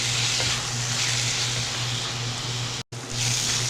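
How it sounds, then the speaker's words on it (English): Grated bottle gourd sautés in a pan, making a steady, fairly loud broadband sizzle with a faint low hum beneath and a brief cut to silence near the end. "adding up the grated bottle gourd, and we will saute for 5 to 7 minutes"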